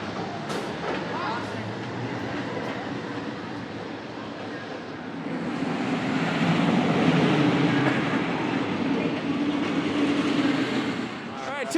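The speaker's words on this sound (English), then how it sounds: "this is like the third test train in a row" A roller coaster test train runs the Lightning Rod track at Dollywood, a rushing, rattling roar that builds louder midway and stays heavy to the end, with onlookers talking nearby.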